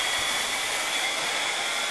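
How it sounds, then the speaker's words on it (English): Hair dryer blowing hot air to dry glue on a book during DIY bookbinding, a steady, even whoosh heard alone for a couple of seconds. "We call it a hair dryer."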